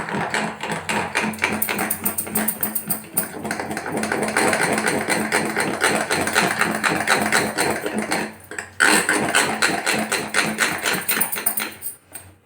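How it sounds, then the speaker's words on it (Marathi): Glass bangles on a whisking arm clinking rapidly against a glass bowl while dhokla batter is beaten, a dense rhythmic rattling and tapping that pauses briefly before resuming, close and loud, no talk. "भांडं पण काचच आहे आणि बांगड्या घातल्यामुळे बांगड्यांचा जास्तच आवाज येतोय"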